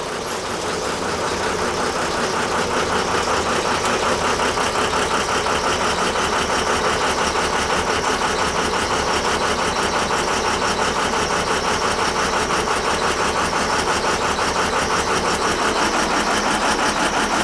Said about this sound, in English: Truck's a little screwed up. I don't know if I got a bad injector or what it is, but it's running like shit.